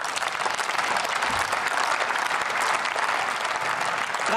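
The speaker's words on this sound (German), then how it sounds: "Applaus" Applause fills the German Bundestag chamber during a session marking 30 years of the Peaceful Revolution, a dense, steady roar of many hands clapping throughout, sustained and even without pause.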